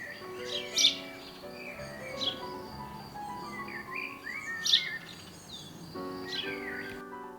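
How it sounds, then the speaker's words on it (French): A sparrow in a neighbour's tree gives several bright, separate chirps and short tweets at uneven intervals, moderately close against a quiet outdoor background with no voices. "Le moineau s'amuse dans l'arbre du voisin."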